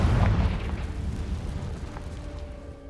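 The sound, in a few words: Confringo blasting curse explosion from video game Hogwarts Legacy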